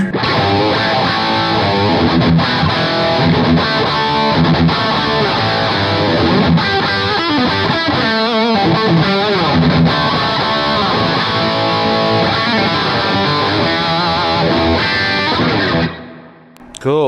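The 6-string side of a double-neck electric guitar, loud and overdriven, plays continuous distorted chords and riffs with no voices, ending abruptly as the sound cuts off.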